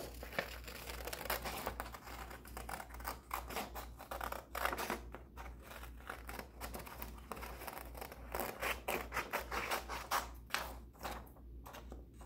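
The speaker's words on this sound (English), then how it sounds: "I'm going to cut out the jug now" Scissors cutting out a paper jug craft, close and quiet, with a steady series of crisp snips and paper rustling throughout.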